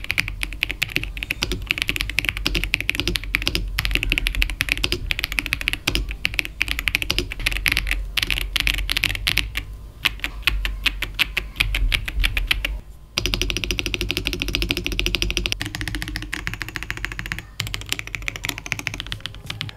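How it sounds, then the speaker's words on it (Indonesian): Steady, fast typing on a Royal Kludge mechanical keyboard at its default setup, with crisp clacky keystrokes in a dense close-up stream and a brief pause before the tapping resumes. "Gue baru tahu ya ternyata begini rasanya ngetik yang cetak-cetok"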